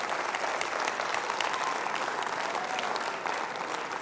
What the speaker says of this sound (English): Can I please ask great IFE to give a round of applause to yourselves